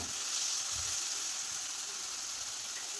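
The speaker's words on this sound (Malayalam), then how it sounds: "ഉള്ളി ഇവിടെ വഴന്ന് വന്നിട്ടുണ്ട്" Onions sautéing in a pan for a chickpea masala curry give off a steady, soft sizzle with no speech, a faint clatter showing up briefly near the start.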